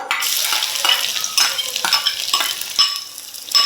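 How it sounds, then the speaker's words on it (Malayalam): Coconut pieces fry in coconut oil while being stirred with a spoon, giving a close, lively sizzle broken by repeated scraping strokes against the pan. "ഇനി ഇതൊരു ഗോൾഡൻ കളർ ആവുന്നത് വരെ നമുക്കൊന്ന് വറുത്തെടുക്കാം."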